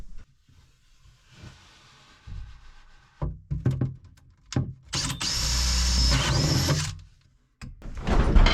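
A drill bores a hose hole through the back of a wooden boat cabinet. Brief handling knocks and short bursts give way to a sustained, loud drilling run of about two seconds, then another burst starts up.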